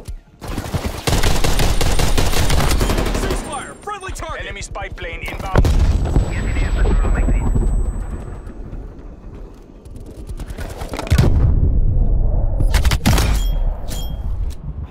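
Pistol shots in a Black Ops Cold War beta match, sharp loud reports amid heavy, near-continuous gunfire and explosions, with short lulls between intense stretches.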